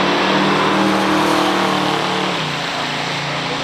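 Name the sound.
1971 Dodge Charger RT 440 drag racing a 1969 Cougar Eliminator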